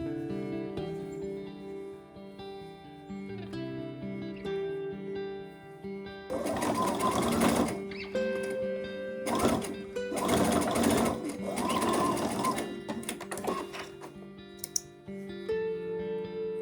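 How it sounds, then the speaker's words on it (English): A sewing machine stitches a side seam on a pair of shorts, its rapid mechanical whir running in several bursts with short pauses between, close and clear over a soft background tone. "Now let's reassemble the side seam, stitch it closed, and finish the raw edge with a zigzag stitch or a serger."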